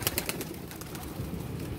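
Pigeons, including a cumin-coloured zeera pigeon, coo softly and steadily inside a net enclosure, with a few brighter flutters or calls near the start and no talking.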